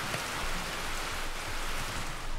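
Heavy rain in the video game Heavens of Sorcery hisses as a loud, steady downpour with dense pattering on surfaces and no voices over it.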